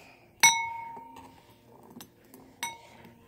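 A pocket knife whacks an egg in three sharp, ringing strikes, the first the loudest, with a few faint taps in between against a quiet background.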